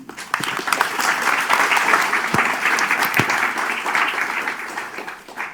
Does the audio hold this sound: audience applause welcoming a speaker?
yes